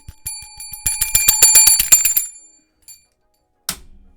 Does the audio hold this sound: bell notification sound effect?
yes